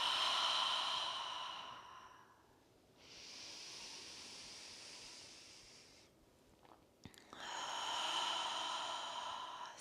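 Long, steady exhalations and inhalations during a grounding yoga breathing exercise, each breath a soft airy hiss lasting a few seconds, close and quiet with no talking.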